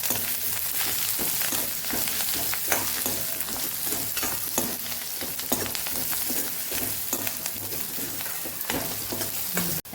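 Green chili and curry leaves sizzle steadily in hot oil for a Tamil Nadu-style tomato poha, a dense continuous frying hiss broken by repeated sharp stirring scrapes of a utensil in the pan, with no one talking.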